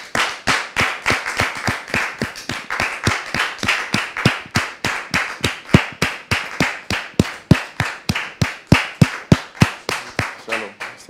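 A TV studio audience claps in near-unison to welcome a guest, producing loud, fast, rhythmic claps that carry on evenly for several seconds.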